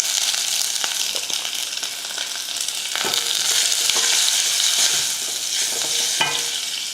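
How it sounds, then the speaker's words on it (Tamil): Steady crackling sizzle of mustard seeds popping in hot oil, with sharp little spits scattered throughout, close and fairly loud, no voices. "எண்ணெய் காஞ்சதும் கொஞ்சம் கடுகுளுந்து, கடுகு பொரிஞ்சதுமே கொஞ்சம் கருவேப்பிலை"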